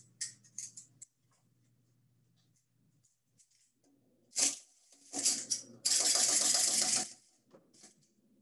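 A wind-up toy runs briefly, giving a dense mechanical whirring burst after a few scattered clicks and rattles, close and short-lived in an otherwise quiet room.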